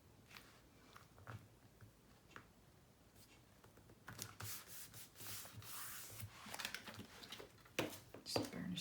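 Paper piece being burnished into place on a Boho Christmas mini album, a soft close rubbing and scraping that grows busier and louder partway through, with a quiet voice faintly underneath.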